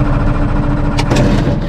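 Eurofox light aircraft engine on a cold start at Rossall Airfield, a loud, steady, rough drone from a spinning propeller that fills the clip, with a couple of sharp bursts near the end.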